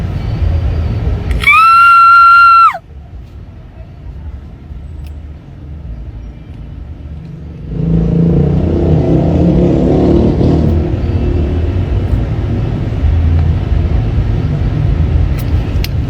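A motorcycle engine starts with a brief high whine, then settles into a loud, steady rumbling idle that continues throughout.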